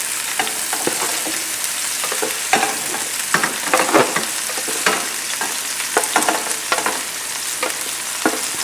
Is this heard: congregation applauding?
no